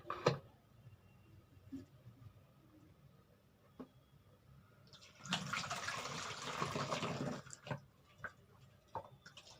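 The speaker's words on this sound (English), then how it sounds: "we will take vinegar and pour it into the plastic bottle using funnel" Vinegar poured through a funnel into a plastic bottle for a science experiment, a burst of splashing liquid lasting about two seconds in the middle, surrounded by quiet ticks and handling clicks.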